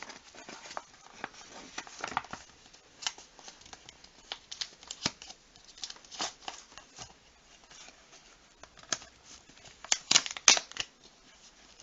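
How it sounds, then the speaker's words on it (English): A mail envelope holding handmade Christmas tags, torn open and handled: quiet irregular paper rustling, tearing and flapping over several seconds, with a brisker crinkly burst near the end and no talking. "I'll just open it up"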